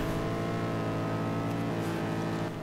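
A car drifting in the video game Arma 3 holds a loud, continuous engine drone with a whining, harmonic tone that shifts slightly in pitch, steady and close throughout.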